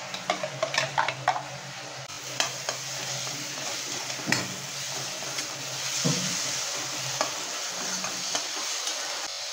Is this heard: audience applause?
no